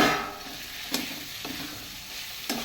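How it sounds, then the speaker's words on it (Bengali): Fried cauliflower and potato tipped into hot masala in a pan, a steady close sizzle broken by a few sharp scrapes as the spatula stirs. "আমি এবার কপি আলু ভাজাটা তুলে দিচ্ছি ওর মধ্যে।"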